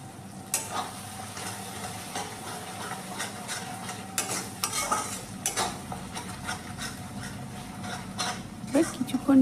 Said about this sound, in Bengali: এবার কিছুক্ষণ নেড়ে লবণটা মিশিয়ে নেব মশলাটার মধ্যে।